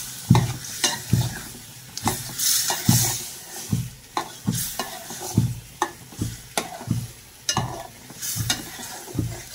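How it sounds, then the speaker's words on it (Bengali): Stinging catfish frying in a pan and being stirred, with a steady sizzle broken by about a dozen rhythmic scraping strokes of a utensil against the pan, close up. "এখন একটু নাড়াচাড়া দিয়ে নেব।"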